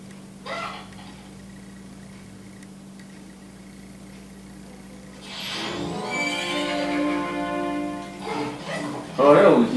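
A horse in the video game Zelda Majora's Mask gives a long, loud neighing whinny over a low steady game hum, followed by a brief bright burst of sound at the end.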